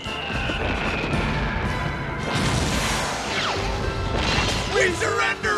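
Loud booms and crashing blasts fill a Star Wars-themed theater attraction at Walt Disney World in 1993, as explosion effects erupt in bursts over a rumbling, dense roar, with a brief swoosh toward the end.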